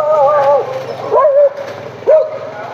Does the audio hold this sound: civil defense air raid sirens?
no